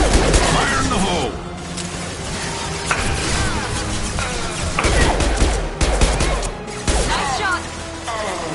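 Gunfire in the Mass Effect 2 video game, rapid bursts of shots and impacts over combat noise, loud and close, with voices speaking between volleys.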